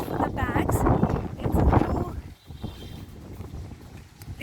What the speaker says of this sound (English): It's windy also.